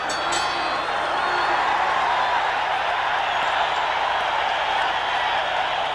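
A boxing arena crowd roars and cheers in a dense, steady wash of noise at the end of round 5 of a Marvin Hagler versus Fulgencio Obelmejias fight, loud and continuous with no single voice standing out.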